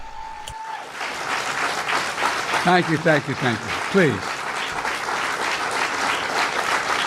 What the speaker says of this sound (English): Like, it's literally a clap track.